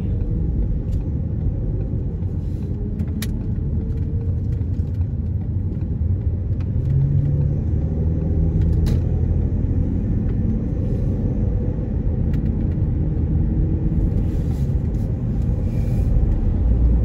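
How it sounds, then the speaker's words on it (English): A car cruising onto a highway, its steady low road rumble and engine drone continuous and close from inside the cabin, with no talk. "I'm just going to go ahead and hop on the highway because I'm sick of all these lights"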